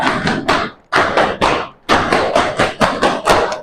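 A classroom group claps in unison in a quick patterned chant, bursts of sharp claps in short phrases with brief pauses between, loud and close with no talking.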